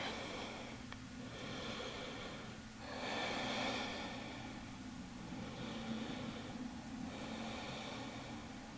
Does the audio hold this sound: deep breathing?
yes